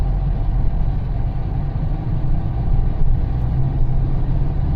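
A car's engine during a driving lesson, a steady low rumble that swells slightly as the driver eases on the accelerator, heard from inside the cabin.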